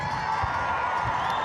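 Rugby stadium crowd in Waikato filling in and making noise, a steady wash of distant cheering and chatter with a faint whistle, continuous and even.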